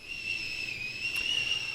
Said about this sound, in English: Oh, the sound of the kettle boiling.